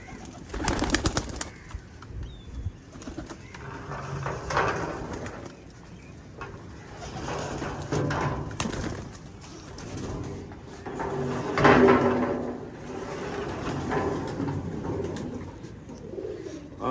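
Tethered pigeons kept outdoors, irregular bursts of wing flapping and rustling with soft cooing between, close by and uneven over a long stretch, no talk.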